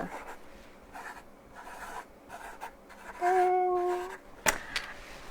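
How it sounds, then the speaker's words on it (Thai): A teacher writes on a blackboard with chalk, a few scratchy strokes in short bursts with pauses, close and moderately loud, ending in a sharp tap. "ครูขอเขียนกระดานดำก่อนนะคะ"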